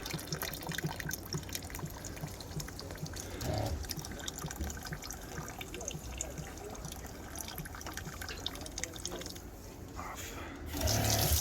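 Water runs steadily from the faucet of an 18 gallon overland water tank, a continuous close trickle and splash with a brief louder gush near the end.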